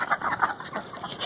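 Chickens cluck inside a coop, a run of short, close, fairly loud clucks in quick uneven bursts.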